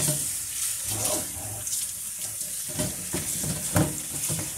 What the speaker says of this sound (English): When you're rinsing it, and you're using a colander or shifter, use the one that is fine.